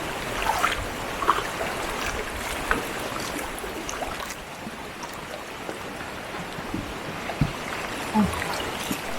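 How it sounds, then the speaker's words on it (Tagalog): Strong river current rushes around a bamboo raft on a rafting trip in Thailand, a steady broadband wash of flowing water with scattered splashes and knocks, continuous and fairly close throughout. "sobrang lakas talaga ng alon"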